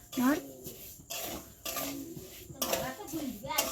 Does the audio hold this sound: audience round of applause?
no